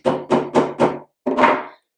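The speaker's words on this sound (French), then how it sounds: "Alors, percer à la système D. Un marteau, un tournevis." A hammer strikes a screwdriver to pierce a coconut in a kitchen, four quick sharp blows in a steady rhythm, then a pause and one longer, heavier knock, all close and loud.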